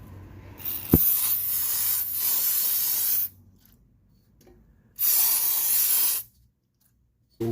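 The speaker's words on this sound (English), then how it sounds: "We're gonna spray inside." Aerosol can sprayed inside a part during an oil change on a 1982 Honda Nighthawk motorcycle: two loud, close hissing bursts of about two and a half seconds and one second, separated by quiet, after a sharp click.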